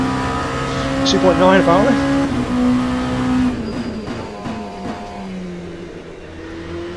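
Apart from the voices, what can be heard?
LMP2 race car engine, Le Mans Ultimate video game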